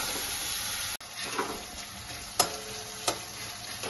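Spice paste for achari bitter gourd sizzles in oil after water is added, a steady close frying hiss broken by a brief dropout and a few sharp scraping stirs.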